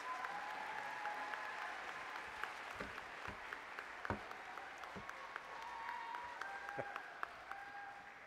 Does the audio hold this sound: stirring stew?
no